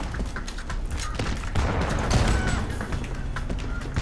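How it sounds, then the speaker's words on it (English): Revolver gunfire in R.I.P.D. The Game comes as a series of loud shots and impacts amid chaotic game noise, with bursts clustered throughout. "The recoil on the revolver is just too big."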